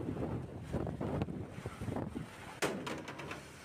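Strong Kalbaisakhi storm wind with heavy rain, heard as loud, gusty buffeting and roaring across the microphone, with uneven surges and a sharp blast near the end.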